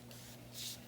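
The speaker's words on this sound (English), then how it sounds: "So I'm going to just spray the whole shoe, inside and out." A single short burst of Scrubbing Bubbles cleaner sprayed onto a Crocs shoe, a brief quiet hiss over a low steady hum.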